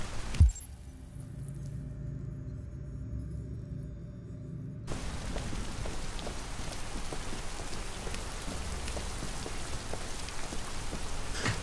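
Steady rain pours in a Detroit: Become Human scene, a soft continuous hiss that grows denser and louder partway through, with no voices over it.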